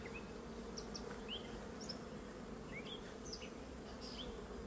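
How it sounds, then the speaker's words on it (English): Honey bees buzz steadily all around at an open hive during a beekeeping inspection, a dense continuous hum with individual bees whining past close up. "I can hear them all around my head."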